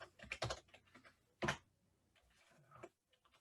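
Typing on a computer keyboard, a few quick, close clicky keystrokes in small bursts with short pauses between, quiet and isolated with no voices.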